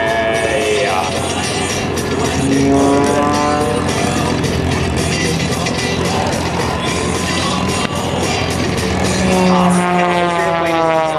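Aerobatic plane with a 400-plus horsepower ethanol-fed AEIO 540 Lycoming engine and carbon fiber construction flying a tumbling tsunami manoeuvre at an air show, a loud, continuous roaring drone with shifting pitch sweeps and faint crowd noise.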